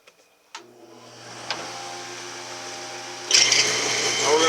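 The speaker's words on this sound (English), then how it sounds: "Now we're going to go to the drum sander." A drum sander spins up and whirs steadily as it shapes a wooden duck decoy, with a rising grinding hiss when the wood meets the drum late on.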